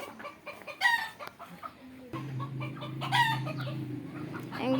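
Fancy small-breed chickens cluck and crow close by in bursts, one loud crow rising over scattered clucking, with a low steady hum running beneath.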